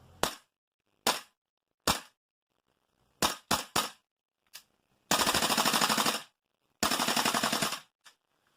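A Tokyo Marui MWS M4 gas blowback airsoft rifle fitted with a heavy recoil buffer and running on green gas fires from a bipod: sharp single shots spaced apart, then two loud full-auto bursts of about a second each, close and crisp.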